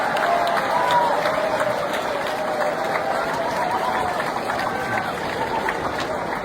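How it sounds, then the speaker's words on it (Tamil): Students at a college event in Pollachi clap to welcome first-year students, a fairly close, steady round of crowd applause mixed with murmuring voices and chatter across the whole stretch. "இரண்டாம் ஆண்டு மூன்றாம் ஆண்டு மற்ற மாணவ செல்வங்கள் இவங்களுக்கு ஒரு பெரிய கைத்தட்டல் கொடுத்து வரவேற்க பார்க்கலாம்."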